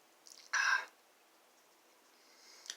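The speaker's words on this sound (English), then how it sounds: "Take a drink of water. Clear my throat." A single short throat clearing after a drink of water, close and quiet, in an otherwise hushed room.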